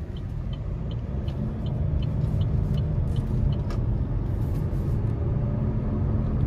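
A 2024 Buick Encore GX ST with a 1.3-litre turbo engine and CVT drives along, giving a steady low engine and road rumble heard from inside the cabin, with faint light ticks and no speech.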